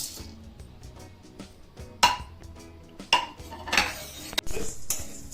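Sunflower seeds dry-roasting in a pan, scraped and stirred with a utensil, giving irregular metallic clinks and scrapes against the pan over a quiet background.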